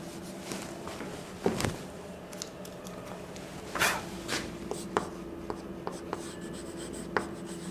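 Marker or chalk writing on a classroom board, a series of short scratchy strokes and taps at close range over quiet room tone, with a faint murmur of voice.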